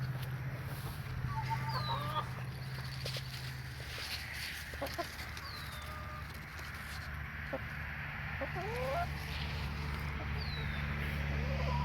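Chickens clucking around a homestead chicken coop, scattered close clucks and short calls over a low steady hum, with no speech.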